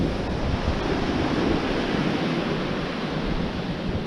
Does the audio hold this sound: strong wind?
yes